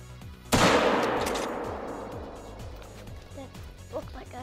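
A single loud rifle shot fired at a piebald mule deer cracks sharply and then rolls away in a long fading echo across open country, with someone speaking quietly afterward.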